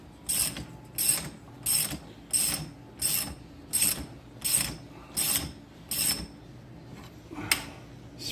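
A ratchet tool cranks down a spring compressor on a Can-Am Outlander XT shock absorber, with about eleven sharp, evenly spaced ratcheting bursts in a steady rhythm, close and clear.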